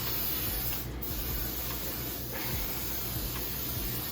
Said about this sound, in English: We're just gonna spray it and hope it's actually doing something.